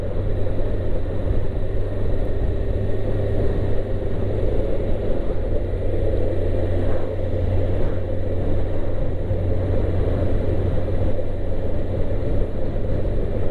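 A sports tourer motorbike cruises along at a steady speed, a loud, constant engine rumble mixed with heavy wind roar, with no changes in pace and no voices.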